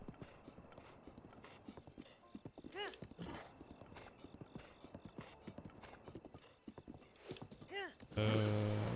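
A horse gallops in The Legend of Zelda: Breath of the Wild, its rapid rhythmic hoofbeats running steadily throughout, with a couple of neighs breaking in and a louder game sound cutting in at the end.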